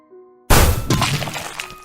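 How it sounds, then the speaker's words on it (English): A battered old truck crashes into figures on a scrub-lined road: after a faint lead-in, a sudden loud smash of shattering glass and crunching metal bursts out and rattles on with debris to the end. "in the midst of crunching metal, breaking glass, and skidding tires"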